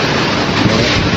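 Strong typhoon wind roars in a dense, continuous rush that buffets the microphone, loud and close, with no voices.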